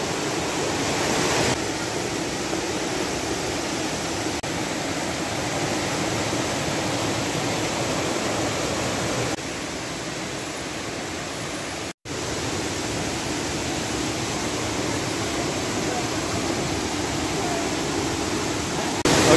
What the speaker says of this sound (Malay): kita dah sampai ke air terjun. Yang nampak air terjun dia memang tinggi.